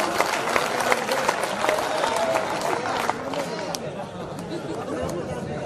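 Audience clapping at a Hindi comic poetry gathering, a kavi sammelan, a loose scattered patter of hands mixed with crowd chatter that gradually thins toward the end.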